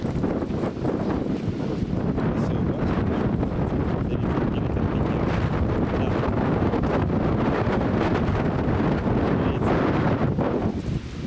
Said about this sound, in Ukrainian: Вітер взагалі скажений